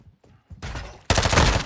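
Bursts of Call of Duty gunfire, a few short shots followed by a loud sustained volley near the end, heard alone without talk.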